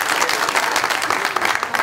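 A studio audience claps steadily and loudly throughout at a French urban-culture TV show, a dense, continuous wash of applause with no pauses.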